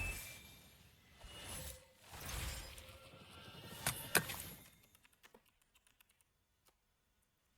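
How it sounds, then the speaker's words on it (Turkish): Computer keyboard typing during a Valorant match: rapid clicking bursts at moderate volume, mixed with game sounds at first, then thinning into sparse, faint taps that trail off into near silence. "Hemen bir klavye sesi."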